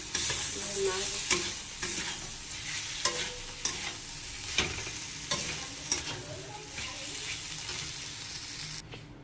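Potato and cauliflower are tossed and fried in a red chili spice paste, producing a loud, close sizzle. Repeated scraping stirs land about every half second to second, and the sound cuts off at the end.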